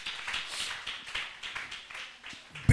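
Church congregation applauding Jesus during a sermon, a steady patter of many hands clapping at moderate distance with uneven rhythm, ending in a louder thump.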